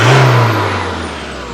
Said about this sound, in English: Just give it a free rev.